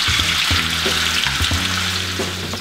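Shrimp with sliced garlic frying in a pan make a loud, close, continuous sizzle, with a steady low hum running underneath.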